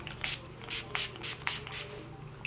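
Setting spray mists onto a face in a series of five short, soft spritzes at a steady pace, heard close and with nothing else around them.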